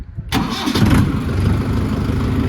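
A Mahindra Yuvo Tech Plus 575 DI tractor engine cranks and fires after a short pause, then settles into a steady, close, loud diesel idle with no talk over it.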